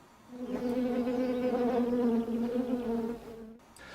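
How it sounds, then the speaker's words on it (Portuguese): Honeybees marked with yellow paint hover around a saucer of sugar water set 500 metres from their hive, giving a steady, loud droning buzz that holds for several seconds before fading out. "as abelhas marcadas com amarelo encontram o caminho até o pires com água e açúcar"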